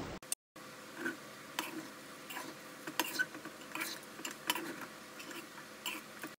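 Carrot bagara rice being stirred and mixed in a pan, a series of soft scraping and ticking strokes at an uneven pace, close and quiet, with no talking.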